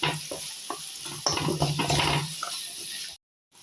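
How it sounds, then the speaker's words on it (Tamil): Tomatoes and onions with rock salt are stirred in a pan, giving a close, steady sizzle and wet scraping that stops abruptly near the end. "நல்லா வதங்கிக்கிங்க இந்த தக்காளி வெங்காயம் எல்லாம் சேர்ந்து நல்லா இந்த மாதிரி குழஞ்சி வந்தாச்சு"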